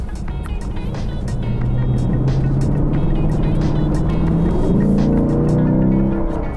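Lexus IS500 F Sport with its 5.0-liter V8 rumbling loud and steady up close, with a deep throaty note that swells into a stronger rev near the end.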